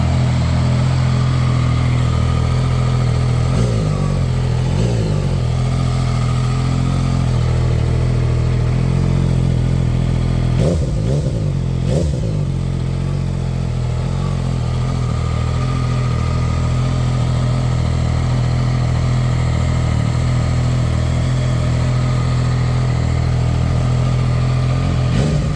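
A 2026 ZONTES 703R motorcycle engine idles nearby, a steady low throbbing hum that stays even and continuous, with a couple of brief disturbances partway through and no talk.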